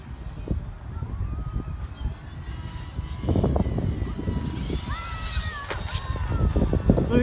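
A-4 model airplane's small engine on its maiden flight, a thin whining buzz with rising and falling pitch sweeps as it passes overhead outdoors, under excited spectator talk and shouting.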